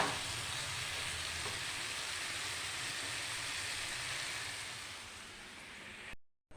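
Chana dal frying in cooked spice masala, a soft continuous sizzle that fades slightly before cutting off near the end, with no voices.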